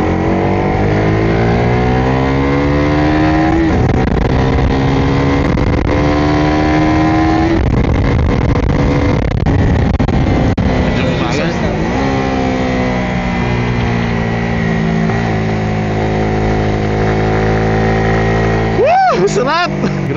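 A Suzuki Raider R150 underbone motorcycle engine revs loudly and continuously on a race track, pitch climbing and falling through gear changes as it speeds along, with a brief sharp rev near the end.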